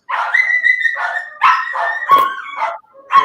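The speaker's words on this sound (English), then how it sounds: "At least it's not only my dog making all the noise." Dogs bark and yip in quick, high-pitched bursts, about six close outbursts in a row with short gaps between them.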